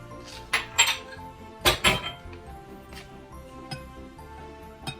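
Star bread dough ingredients, bread flour, sugar and salt, are stirred in a bowl, with a few sharp clinks and scrapes of a utensil against the dish between quieter stretches, no talking.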